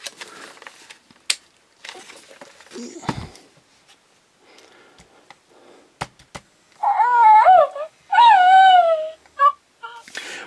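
Baby-like coos and whimpers from The Child animatronic toy, a few short rising and falling electronic cries in the second half, preceded by scattered clicks and quiet handling sounds.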